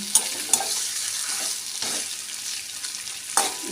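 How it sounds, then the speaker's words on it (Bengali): Mutton being sautéed in a hot pan, a continuous close sizzle and fry broken by a few sharp scrapes and knocks of a spoon as it is stirred. "খাসির মাংসটা দেবো কষিয়ে নিচ্ছি"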